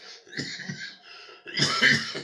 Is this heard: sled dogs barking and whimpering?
no